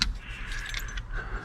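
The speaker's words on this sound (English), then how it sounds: "this truck came with a wad of keys." A wad of keys for a 1976 Chevrolet Cheyenne 4x4 squarebody truck jangles close up, a bright continuous metallic clinking shuffle lasting about a second and a half, quiet and with no talking.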